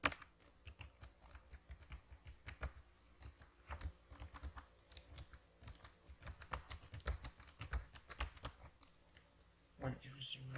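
Keys clatter on a computer keyboard while someone codes in MS Access: rapid, uneven keystroke clicks in bursts and pauses, close up, with a voice speaking over parts of it.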